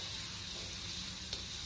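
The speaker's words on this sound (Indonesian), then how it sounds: "Kita tumis dulu." Lemongrass, shallots and garlic sauté in a hot pan with a soft, steady sizzle throughout, fairly faint and with no talking.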